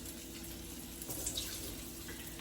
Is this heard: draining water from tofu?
yes